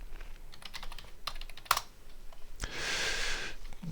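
Rapid keystrokes on a computer keyboard entering a username and password, a quick close clatter of clicks for nearly two seconds, then a soft hiss with no talk.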